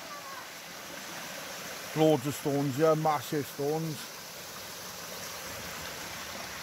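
A mountain stream running beneath a bridge near a Roman grave site in Merthyr Tydfil, a steady low wash of flowing water throughout, with someone talking briefly over it in the middle.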